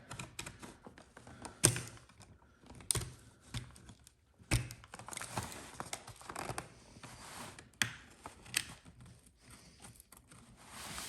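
An X-Acto knife cuts a Jurassic World Dominion Capture 'N Crush Truck toy free from its packaging, giving irregular scratchy slicing, clicks and thunks of cardboard and plastic close by, with no talking.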